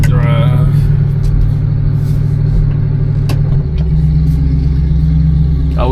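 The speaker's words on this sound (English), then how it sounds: "I will say this 455 just sounds good idling for sure, especially with the exhaust." A 1973 Oldsmobile Delta 88 with a 455 V8 idles through its exhaust, a loud, steady, deep rumble that continues throughout, with a brief shift in tone partway through.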